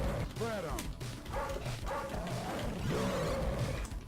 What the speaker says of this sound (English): Look at this dog, so ferocious as it jumps and whacks you in the head